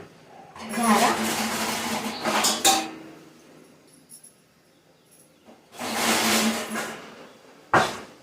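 A metal strainer and pots clatter in a home kitchen while corn chivda is being made, with peanut oil heating on the stove. Two bursts of clinking and scraping, near, separated by a quieter gap, with a voice talking.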